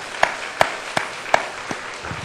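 A handful of sharp, evenly spaced hand claps ring out at a church celebration service for the choir and drama team, five or six distinct claps fading at the end.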